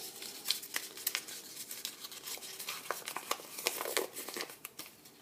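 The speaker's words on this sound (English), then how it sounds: "crumple it." Paper being crumpled close by for a junk journal, a run of sharp crinkling crackles that grows busier toward the end, with no talking.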